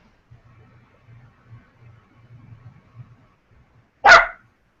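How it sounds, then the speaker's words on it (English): A Jack Russell terrier lets out a single sharp, loud bark near the end, following a few seconds of quiet low murmuring. "What kind of puppy is that I hear? Jack Russell."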